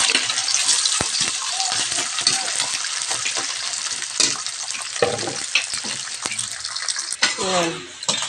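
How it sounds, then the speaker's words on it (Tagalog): Potato pieces fry in hot oil in a pan, a steady close crackling sizzle with occasional sharper pops and stirring scrapes, under faint background talk. "Ito mga friend, yung patatas natin. Prito natin mga friend."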